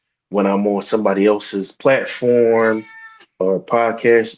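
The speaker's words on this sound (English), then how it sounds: "that's my cat" A pet cat named Goldie meows a couple of times while a person talks at close range, the cries slipping in between and over the speech.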